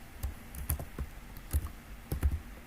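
Keys clacking on a computer keyboard at a desk during a JavaScript coding session, a few quick irregular bursts of close, crisp taps with short pauses, no talking.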